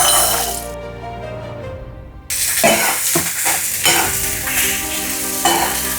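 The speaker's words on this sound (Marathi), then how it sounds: "सर्व भाज्या चांगल्या मिक्स करून परतून घ्यायच्या चांगल्या." Mixed vegetables and spices including red chili, cumin and coriander powders stir-fried for bhogichi bhaji, a loud steady sizzle with a brief pause, then scraping stirs and clinks of the spoon against the pan.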